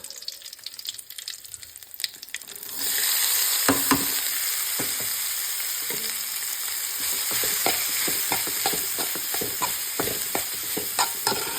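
Banana blossom tossed into a hot pan with curry leaves for a Kerala thoran, landing with a sudden burst of loud, steady sizzling and frying, broken by repeated scraping stirs close by.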